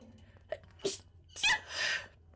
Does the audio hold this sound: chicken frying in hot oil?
no